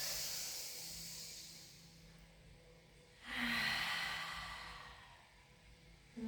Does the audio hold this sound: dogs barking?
no